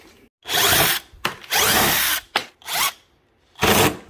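A power drill whirs in five close, loud bursts of varying length while backing screws out of the grille on a 2009–2011 Acura TL, with brief pauses between runs and no talking.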